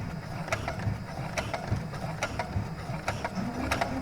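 A sewing machine sews ripstop fabric slowly, giving a rhythmic series of close mechanical clicks and ticks over a low motor hum, with no voices.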